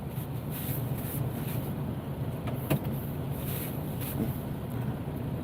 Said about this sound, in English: Let me resume my driving.